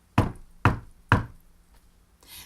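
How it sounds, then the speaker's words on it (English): A huge knocker bangs three times on a large cave door, heavy close thuds evenly spaced, then a faint fourth tap and a soft rustle, with no talking. "She took hold of the knocker and banged on the door."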